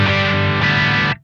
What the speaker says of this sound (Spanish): podés lograr una distorsión mucho más potente que la que te mostré recién